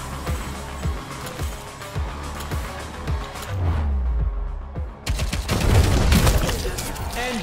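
Rapid gunfire in the turn-based arena combat game ShowGunners, at an abandoned housing block: a steady run of sharp shots over a low rumble, a short pause, then a louder, denser burst of blasts and impacts.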